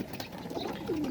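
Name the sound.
pigeon cooing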